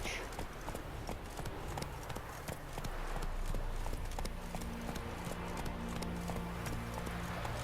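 Horse galloping in The Witcher 3 video game, rapid rhythmic hoofbeats drumming steadily and faintly throughout, with a low rumble underneath.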